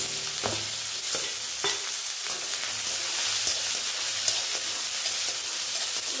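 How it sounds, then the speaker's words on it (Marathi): Finely chopped onion sautés in a hot pan for upma, a steady broadband sizzle running throughout with occasional scrape and stir clicks from a spoon, close and continuous. "कांदा आपल्याला गुलाबी होईपर्यंत परतून घ्यायचा आहे"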